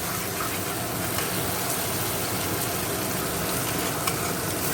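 Spice paste frying in oil in a home Bengali kitchen, a steady dense sizzle holding evenly throughout, close and moderately loud with no talking.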